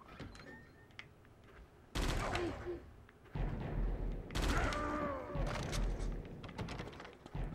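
Bursts of assault rifle fire crackle in the Die Hard Vendetta video game, with heavy, dense volleys arriving in two main waves over a busy game soundscape.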